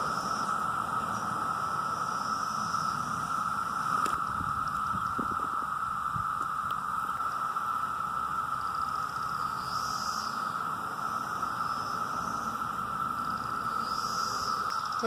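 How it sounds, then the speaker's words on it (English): Cicadas buzzing in a continuous, even drone that fills the air throughout, with slight swells in intensity and no voices. "Those are the cicadas, and they are still with us."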